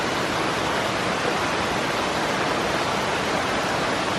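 Hardcore Cascades, a waterfall on the Appalachian Trail, roars in a constant broadband wash of rushing water, loud and close, steady from start to finish with no voices.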